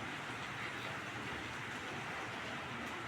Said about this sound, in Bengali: বৃষ্টি পড়েই যাচ্ছে পড়েই যাচ্ছে।